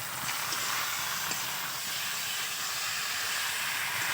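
Drumstick stems (sajna data) and potatoes sizzling as they are sautéed in a pan for a pangas and tengra fish curry, a steady broadband hiss and crackle held evenly throughout, close and fairly loud with no voices.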